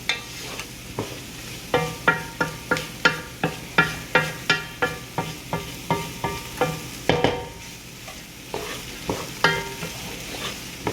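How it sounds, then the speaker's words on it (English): Chicken gnocchi being stirred in a frying pan, a steady run of sharp, evenly spaced utensil scrapes and knocks over a continuous close sizzle, with no voices. "We're going to stir it in there for about 2 minutes."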